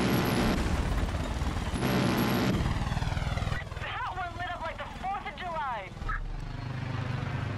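A helicopter in the video game Far Cry 5 gives a steady rotor-and-engine drone, loud and close at first and then lower in level, with game voices and chirpy effects over it.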